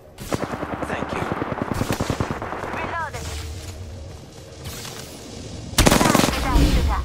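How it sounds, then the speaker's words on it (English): Rapid automatic gunfire from the video game Apex Legends crackles loudly in dense bursts, pausing briefly before another heavy volley near the end, with a player's voice talking over it. "This is enough of getting shot at."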